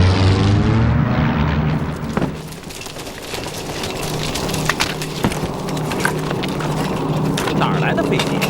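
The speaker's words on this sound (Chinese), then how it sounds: "哪儿来的飞机？" A Japanese military airplane drones overhead in a wartime drama scene, a steady propeller-engine roar filling the background while people talk over it.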